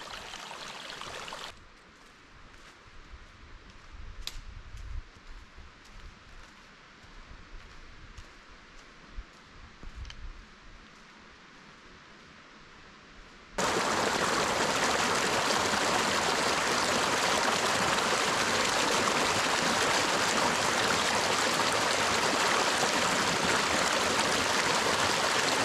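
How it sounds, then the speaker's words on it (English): A small mountain creek in Tahoe National Forest flows steadily, first faint and muffled, then loud and close as a broadband rush of running water that fills the rest of the stretch without pause. "Multiple little creeks like this."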